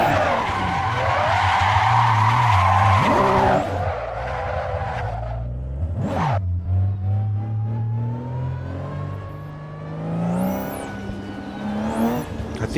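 A private car drifting, its tires skidding in a loud, sustained screech while the engine roars and revs close by, with brief pauses and renewed squeals as it slides.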